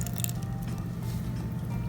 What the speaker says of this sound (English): And then we will mix these together.